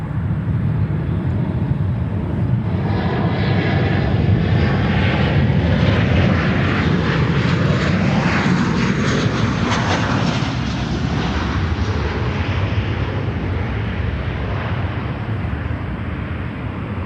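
A plane on approach at Chicago O'Hare roars loud and steady for the whole stretch, a broad continuous jet rumble close overhead with no talking.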